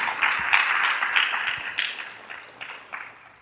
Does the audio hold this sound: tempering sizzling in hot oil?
no